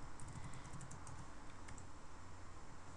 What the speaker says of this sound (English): Wait, I always type these wrong.